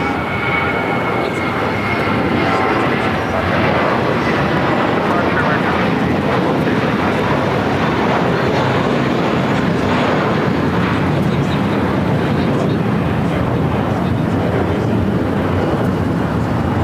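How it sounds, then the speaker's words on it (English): A Breeze Airways airliner takes off at LAX, a loud, sustained broadband engine roar that holds steady throughout, with someone talking over it. "that was Breeze 707 taking off to Jacksonville"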